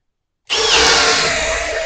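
A Milwaukee hammer drill on a 6 amp-hour battery at high speed starts abruptly after a moment of silence and drives a 1 1/4 inch Speedbor bit through 4x4 lumber with a loud, steady grinding whir.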